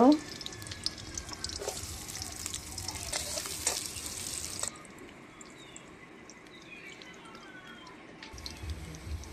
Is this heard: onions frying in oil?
yes